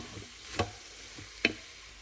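Garlic and flour are stirred in a sizzling pan for mushroom soup, a soft steady frying hiss broken by two sharp, close scrapes of a utensil against the pan.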